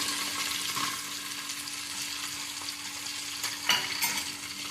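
Onion frying in a mix of oil and ghee, a continuous close hissing sizzle with one brief metallic clink from a utensil partway through.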